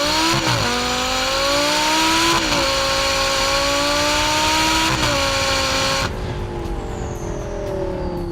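Heffner twin-turbo 900 hp Lamborghini LP 560 accelerating hard in first gear with traction control off, a loud engine roar climbing steadily in pitch, then an abrupt drop in noise as the run ends.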